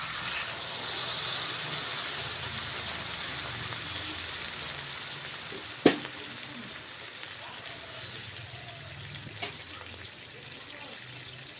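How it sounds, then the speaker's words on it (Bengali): Broth is poured into a pot of country chicken curry, giving a steady, moderately loud gushing wash of liquid that runs throughout, with a couple of sharp clinks partway through. "হয়ে গেছে, এখন দিয়ে দিব ঝোল।"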